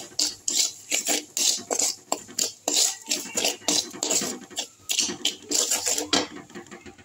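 Garlic eggs seasoned with pepper and chili powder are stirred in a pan, a rhythmic series of close scraping and rasping strokes of a utensil against metal, evenly repeated.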